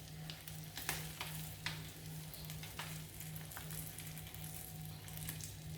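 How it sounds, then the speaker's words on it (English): Sweet corn kernels toasting in butter in a pan sizzle steadily, with sharp crackles and pops rising above the continuous frying hiss and a faint low hum. "While the corn is getting toasted in the butter"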